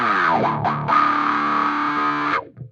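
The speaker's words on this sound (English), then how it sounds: "Hear how it's continually kind of like triggering and sweeping as I'm having more or less DI coming in as I'm playing the riff?" A distorted electric guitar riff played through a Quad Cortex with a side-chained effect, its tone pumping and sweeping as the DI signal triggers it; a short, loud burst of sustained chords with choppy dips, ending abruptly.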